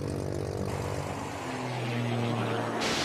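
A Red Bull Air Race propeller plane drones through the course after takeoff, a loud steady engine tone with shifting pitch, close and without speech.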